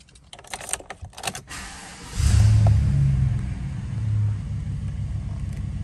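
Keys to a 2014 Chevrolet Silverado 1500 LTZ pickup jingle in a few quick metallic bursts up close, then a deep engine rumble starts and carries on steadily.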